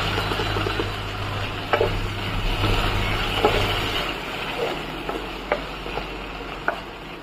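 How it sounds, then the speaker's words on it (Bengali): Chicken masala with ginger and garlic being stirred in a pan, with a low background hum in the first half under a soft sizzle and intermittent sharp spoon scrapes and clicks. "এবার এটা দিয়ে একটু ভালো করে নেড়ে নেবো 2 মিনিট, যতক্ষণ না আদা রসুনের গন্ধটা কেটে যাচ্ছে।"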